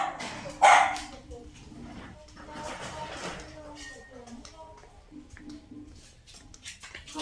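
Several dogs being caught and put into cages by an elderly woman caring for rescued animals, giving a sharp nearby bark followed by scattered yips and whimpers over quieter background voices and rustling.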